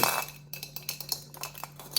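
Drinking glasses, probably plastic, are knocked together, giving a run of small clinks and taps close by over a faint steady hum, with no talking.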